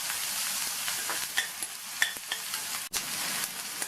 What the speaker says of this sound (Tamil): 1/4 கப் அளவுக்கு பொடியாக கட் பண்ண வெங்காயம், 2 பூண்டு ஸ்லைஸ் பண்ணது எல்லாத்தையும் வதக்கிக்கலாம்